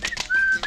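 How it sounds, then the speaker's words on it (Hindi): A short, sharp whistle sounding as one sustained high tone, loud and close, broken by brief breathy bursts at either end, with no one talking. "सीटी बज गई, सीटी बज गई"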